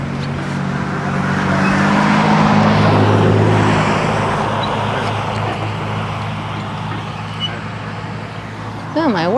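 Cars pass on a road near a farm pasture, a broad rumbling whoosh that swells and slowly fades over several seconds while a person talks nearby.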